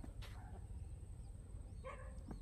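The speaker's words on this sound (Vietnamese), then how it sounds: "những chú chó mực ở bên kia kìa cứ chu và sủa liên tục" Black dogs bark from some distance in a rural spot: a couple of short, faint yips at the start and end over a low background rumble.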